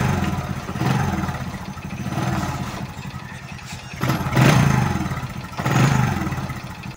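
A Honda XRM 125 motorcycle engine, freshly rewired with a 4-pin CDI socket, runs up close with a clattery idle and several rising revs, the bursts swelling and falling back in a loose rhythm, with no talking.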